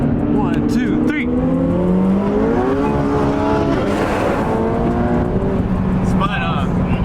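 A tuned 1000 hp McLaren 720S launches against a 1000 hp twin-turbo Audi R8 V10+, loud rising engine roars with wheelspin, close and sustained, overlaid by excited shouting voices.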